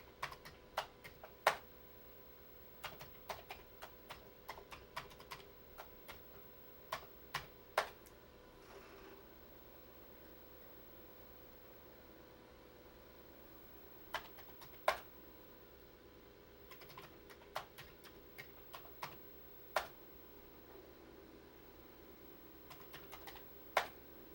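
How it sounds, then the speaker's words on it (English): Keys clack on a Commodore 64 keyboard as a BASIC program is entered, irregular close keystrokes in quick clusters separated by short pauses, over a faint steady hum in a quiet room. "Now I'll type a simple basic program"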